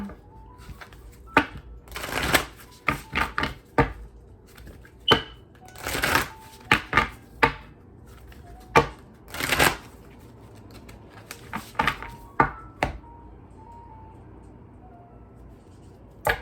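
A deck of cards being shuffled and cut for a tarot-style reading, with repeated crisp riffles and flutters in irregular bursts, close and clear with quiet pauses between them.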